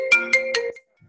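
A mobile phone ringtone sounds during a talk by a true crime author, three bright repeating chime bursts in quick succession, loud and close, then cutting off to near silence.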